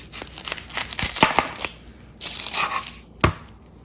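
Knife slicing through a whole onion being trimmed flat for a blooming onion, a run of crisp crunching cuts and tearing layers close up, with a few heavier chops and a final thud, no talk.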